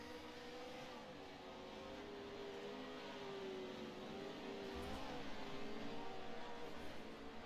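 Pro 4 race cars lapping Crandon in a sim racing game, a continuous droning engine tone with wavering pitch, steady and fairly faint throughout.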